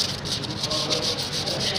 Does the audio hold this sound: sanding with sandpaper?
yes